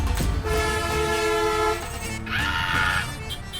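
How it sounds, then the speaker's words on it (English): Heavy bus horn blaring in busy Colombo traffic, a sustained loud tone running for over a second, then a second higher honk blast after a pause, over constant street engine rumble. "Nothing like the great honking horn of a giant bus to put fear in you."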